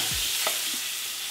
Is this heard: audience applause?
no